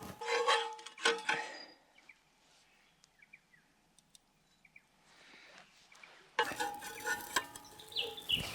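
Bacon and eggs dished up from a camp pan at a solo bush camp in the Victorian High Country: bursts of metallic scraping and clattering, then a quiet stretch with faint bird calls, then louder scraping and sizzling.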